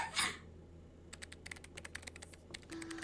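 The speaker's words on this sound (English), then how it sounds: "I heard the click-clack of the keys as Gil resumed speaking to me." A brief rustle comes first, then a short stretch of quiet before computer keyboard keys start clicking in quick, uneven bursts. The typing is close but fairly soft, set against a faint hum, with no talk.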